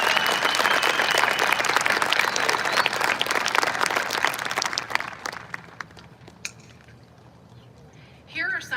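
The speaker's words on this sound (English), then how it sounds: "Please join me in giving them a round of applause for their commitment and dedication to your education." A large graduation ceremony crowd at an outdoor stadium claps for high school staff, dense applause that fades out after about five seconds, followed by scattered claps and a faint voice.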